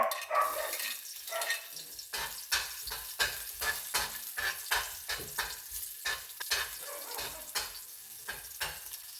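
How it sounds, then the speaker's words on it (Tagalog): Garlic sautéing in a pan for ginisang talong at okra, a soft sizzle broken by a regular series of stirring scrapes, close and moderately quiet with no talk. "gisa na tayong bawang guys, bawang."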